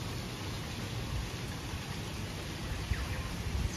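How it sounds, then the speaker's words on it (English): Steady broadband rain falls on a wet day on the Gold Coast, a soft continuous patter with no speech over it. "Bit of a rainy day today."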